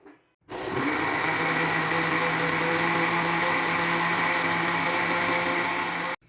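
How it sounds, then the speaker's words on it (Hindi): An electric blender whirs loudly and steadily, blending peaches with milk for a milkshake, starting abruptly after a brief pause and running nonstop for about six seconds before cutting off. "अब यहाँ पे हम इन सारी चीज़ों को अच्छी तरह से ब्लेंड करेंगे।"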